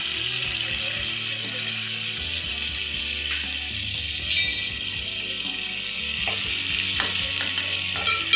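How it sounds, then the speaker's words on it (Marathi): Chopped onions frying in a spoonful of oil for a Kolhapuri mutton dish, a steady close sizzle with bright crackle and occasional stirring scrapes under a low background hum. "कांदा आपला गुलाबी रंग होईपर्यंत भाजला"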